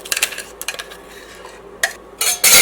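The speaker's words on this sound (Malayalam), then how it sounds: "മിക്സിയുടെ ജാറിൽ നിന്ന് ഫുള്ളായിട്ട് വടിച്ചെടുത്തോട്ടെ" A spatula scrapes ice cream batter of milk, egg and sugar from a mixer jar in short bursts of scratching and clinking, with pauses between strokes and a louder rattle at the end, without talk.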